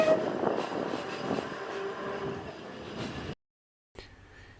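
A Seaton Tramway tram running along its track, a steady close rumble with faint clatter that cuts off abruptly, followed by quieter interior noise.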